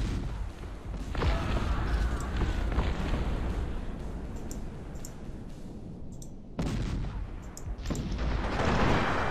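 Musket volleys and artillery fire boom through a Cossacks real-time strategy battle, dense crackling and thudding bursts running continuously at loud, even level, with a brief lull near the end before the firing surges again.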